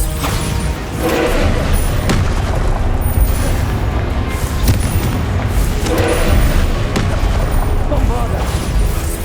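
Repeated Bombarda spell blasts in the video game Hogwarts Legacy, heavy booming explosions and thuds landing every second or two amid dense, continuous combat noise with layered impacts.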